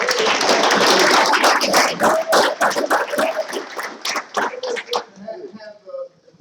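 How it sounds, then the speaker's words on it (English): A room at a council meeting breaks into a short round of applause that thins to scattered individual claps, with people talking and a voice over the clapping as it dies away. "How about a round of applause for really good"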